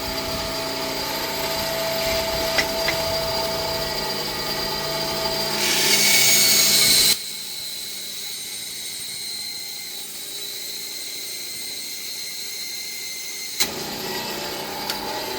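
A small Delta 28-180 vertical bench band saw rips through 1.25-inch beechwood with a worn blade, a steady loud whine and buzz that surges briefly, then drops to a quieter idle hum before a sharp click.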